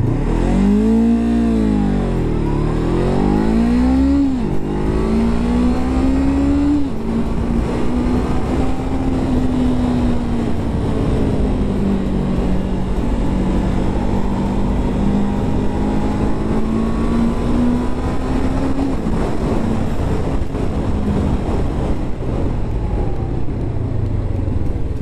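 Honda CB500F motorcycle pulling away hard from a standing start, its engine climbing loudly through the revs, dropping at a gear change, then holding a sustained high drone close by.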